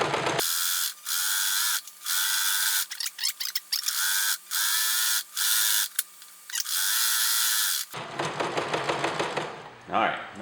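A sewing machine stitches fabric in repeated close bursts of rapid mechanical whirring separated by short pauses, followed by softer handling noises at the end.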